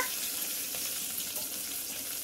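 Ginger sizzling and frying in a hot pan while vegetable rice is being cooked, a steady close crackle and hiss with no pauses and no talking.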